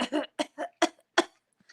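A raspy, hacking cough repeats in quick bursts, five or six harsh coughs close by, sounding like a bird imitating a smoker's cough.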